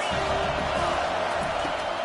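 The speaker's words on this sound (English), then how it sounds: "This crowd trying to make life miserable for this offense." A football stadium crowd roars steadily and loudly throughout, a dense wall of noise meant to rattle the offense during a game.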